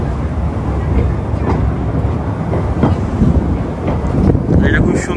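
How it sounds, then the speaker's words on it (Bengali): The small Busselton Jetty toy train rumbles past outdoors, loud and steady, with rolling wheel clatter and heavy wind buffeting the microphone. "এটা হচ্ছে বাসেলটন জেটির টয় ট্রেন"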